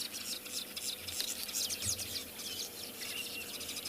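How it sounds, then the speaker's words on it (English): Weaver birds keep up a dense, continuous chatter of chirps and twitters at a dam on a South African morning safari, steady and moderately distant with no voices. "And that's the weavers you can hear."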